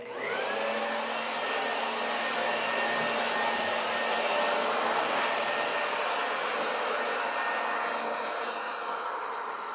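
Electric leaf blower running at its higher power setting, pushing dirt and debris around a yard; a loud, steady, close whooshing roar holds constant throughout with no talking.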